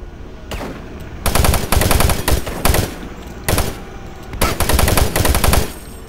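Rapid automatic weapon fire in the 2004 first-person shooter Doom 3 comes in several loud, close bursts separated by short pauses, with no talking over it.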